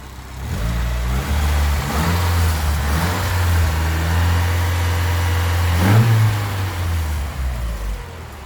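A Datsun 510 four-cylinder engine idles steadily, a loud, continuous low rumble with a slight rise in revs near the end and no talking over it.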